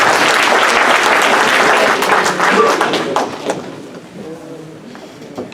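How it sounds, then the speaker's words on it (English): An audience at a community gathering in Toronto applauds the association president, a loud dense burst of clapping that holds for about three seconds, then thins out and fades, with scattered claps and a thump trailing at the end. "So let's give him a round of applause, our president."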